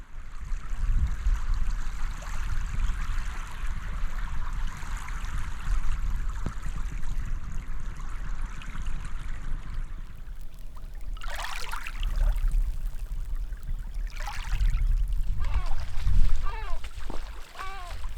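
A stream in the far north of Europe flows with a steady, broad rushing wash that runs the whole time. A voice talks over the water in the second half.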